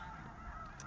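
A flock of snow geese honks out in open country, a brief, faint burst of overlapping nasal calls carried from a distance.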